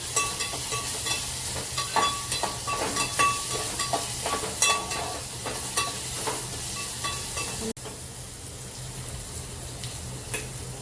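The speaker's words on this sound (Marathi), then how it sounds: "कांदा भाजलेला आलू असे पेस्ट टाकून घेऊया ती सुद्धा छान अशी परतून घेऊया" A paste of roasted onion and potato sautés in hot oil for a spicy dal, giving a continuous close sizzle broken by rhythmic scraping stir strokes, which stop partway through and leave a quieter steady frying hiss.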